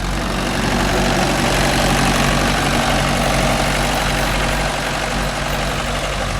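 Mahindra 575 DI Bhoomiputra tractor driving a 36-blade rotavator, a loud, constant heavy diesel engine drone with a low vibrating rumble, steady and close throughout with no talking.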